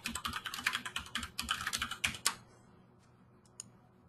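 Rapid typing on a computer keyboard, a dense run of close, crisp key clicks for about two seconds, then quiet with a couple of isolated taps.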